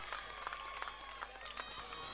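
Steady applause from a crowd at a prize distribution ceremony for the Vaghoba Chashak 2026 cricket tournament, greeting the best bowler, Harshad Vaiti; clapping continues evenly throughout at moderate, slightly distant loudness.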